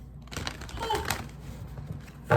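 Tarot cards being shuffled by hand close up, a soft, quick run of papery flicks and riffles at low volume.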